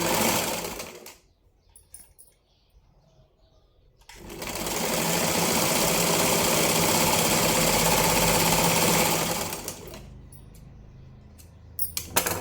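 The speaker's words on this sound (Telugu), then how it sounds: "నేనైతే మిషన్ కాజాలు వేసుకుంటున్నాను, ఫేస్ కాజాలు కాదు." Sewing machine stitching machine-made buttonholes on a lined blouse, a loud steady mechanical whir running for several seconds between quieter pauses, with no talking.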